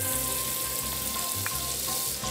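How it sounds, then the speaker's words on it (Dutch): Chunks of goulash meat frying in hot butter in a pan, a steady loud sizzle and crackle running throughout with a few brief stirring knocks. "En dan zo eventjes dat vlees in die hete boter."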